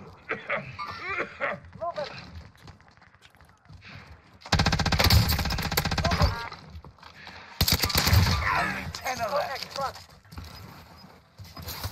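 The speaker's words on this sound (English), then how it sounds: "Big ass LMG." Bursts of MG82 light machine gun fire in the battle royale shooter Warzone, two long dense rattling volleys at mid distance, with game voice lines and talk in between.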